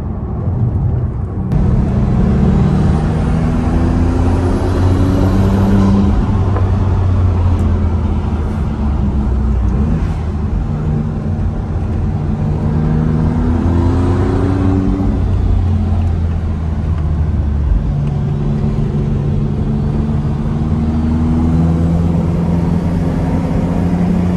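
Maserati MC20 with its V6 Nettuno engine pulls steadily, a continuous loud engine drone with rising and shifting tones and no talk over it, driving through a scenic stretch.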